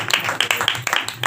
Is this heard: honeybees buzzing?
no